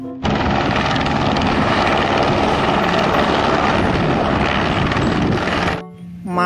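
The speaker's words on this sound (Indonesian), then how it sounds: "Helikopter." A toy helicopter roars loudly and steadily with a dense, chopping drone, then cuts off abruptly near the end.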